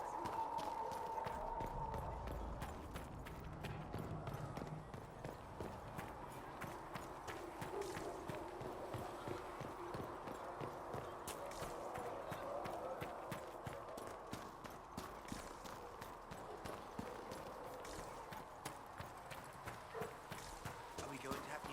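Horse hooves gallop steadily in the Dragon Age Inquisition video game, a continuous rhythmic clip-clop running throughout beneath people talking.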